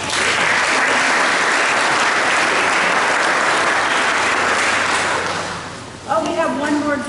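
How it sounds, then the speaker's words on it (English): Audience applause at a Salvation Army event, a dense loud wash of clapping that fades after a few seconds before a voice begins speaking over the tail. "we could give them a round of applause."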